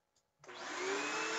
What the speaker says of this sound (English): Vacuum! I'm vacuuming!